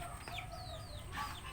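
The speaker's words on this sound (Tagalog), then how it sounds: "Malaking manok yan." A chicken clucks and a rooster crows faintly in the distance, short calls rising over a low background hum.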